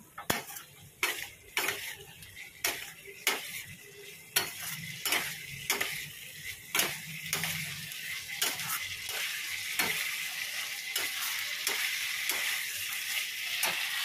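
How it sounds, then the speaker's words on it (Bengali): Fried cauliflower and green peas are stirred with spices in a hot kadai, with regular metal scrapes and clinks of a spoon against the pan roughly every half second over a growing, steady sizzle. "আর এর মধ্যে দেবো এবার হচ্ছে ফুলকপিটা ভাজাটা। মশলাটাকে ভালো করে কষাবো।"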